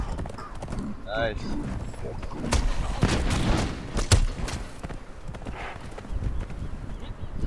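Horse hooves clip-clopping close behind in a video game, rhythmic hoofbeats mixed with sharp gunshot cracks while players talk over them.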